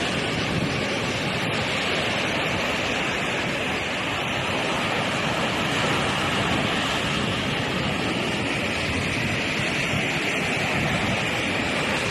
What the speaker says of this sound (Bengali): এই যে পানি আসার সময় যে আওয়াজটা করছে